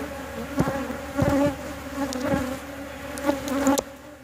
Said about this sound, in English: Bees might be getting a little more agitated.